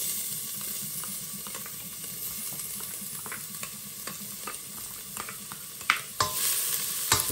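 Garlic fries in a pan for Filipino tinolang manok, giving a steady close sizzle with scattered stirring scrapes and clinks of a utensil against the pan.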